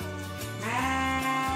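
Goats on a farm raising urine for fertilizer give a single sustained, wavering bleat that climbs in pitch partway through, loud and close with no talking.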